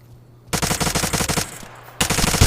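Gunfire in the Pavlov VR shooter game: dense, rapid automatic bursts that start abruptly after a quiet moment, pause briefly, then resume, loud and close with no talking.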